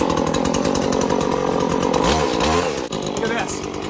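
Petrol pole saw running at full throttle and cutting, a loud, buzzing two-stroke whine with a dip in pitch as the chain bites, heard close up and continuous.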